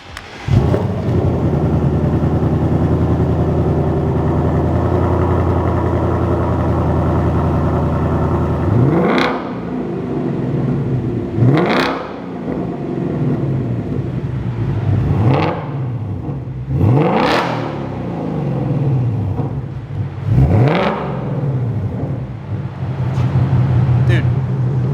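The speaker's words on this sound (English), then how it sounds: "The catback system is on the car. It's time to fire it up." A 2024 Ford Mustang Dark Horse with an AWE Switchpath catback exhaust fires up and settles into a deep, steady idle, then gives several sharp rev blips spaced a few seconds apart, loud and close.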